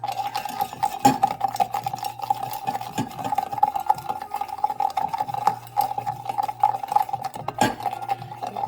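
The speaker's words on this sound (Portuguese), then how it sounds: "a gente vai ter que bater com essa colher até ele ficar bem cremoso" Spoon rapidly beating instant coffee paste in a cup until creamy, a steady close-up scraping and stirring rhythm with frequent sharp clinks against the cup, continuous throughout with no talking.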